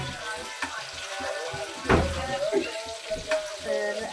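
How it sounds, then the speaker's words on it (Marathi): Fish frying on a low gas flame gives a soft, steady sizzle, with a louder pop or spatter near the middle and faint background tones, heard close up. "असं बारीक गॅसमध्ये ठेवायचं, तळून घ्यायचं."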